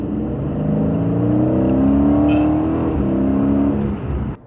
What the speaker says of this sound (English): At the higher RPMs, the engine is really screaming, and I love that you can hear all of it inside the car.